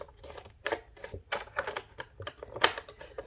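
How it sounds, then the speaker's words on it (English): Recycled plastic sheet being cut all the way around its edge for a flat dishwasher tag, giving a run of quick, sharp snipping and crunching clicks close up, with no talk. "So I'm going to cut off this all the way around,"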